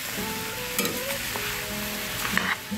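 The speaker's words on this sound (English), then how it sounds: "I will mix up the rice first with all the ingredients" Rice being stirred together with its ingredients in a cooking pot for a Trinidad-style bhaji cook-up with smoked bones, a steady scraping and sizzling stir that runs close and fairly loud throughout, with no talking.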